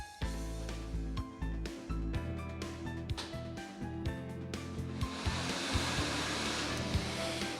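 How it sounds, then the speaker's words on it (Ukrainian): A Megalot lottery drawing machine runs, its blower roaring steadily while the balls rattle and clatter against each other in a continuous mixing rush that grows hissier toward the end, close by and without talk. "вмикаємо лототрон"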